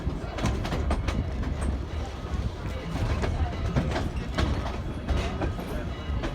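Train 475 rolls into a rail yard with a low rumbling drone, rhythmic wheel clatter and metallic rattles, steady and fairly close throughout.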